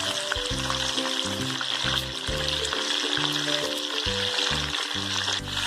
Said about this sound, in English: We'll fry all the koftas till it changes its color to golden brown.